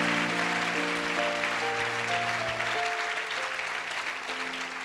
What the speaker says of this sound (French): let's give the Lord a hand for that